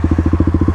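Kawasaki 2018 KLX351 dirt bike fitted with a full Barker exhaust, idling or blipping with a steady, rapid, loud pulsing thump, close up and unaccompanied by voices.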